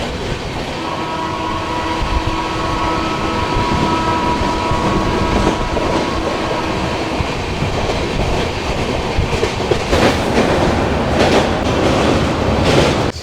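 A Humsafar Express train runs through Dakshineswar station without stopping, its loud, continuous wheel rumble and clickety-clack rising to sharper rattling bursts near the end.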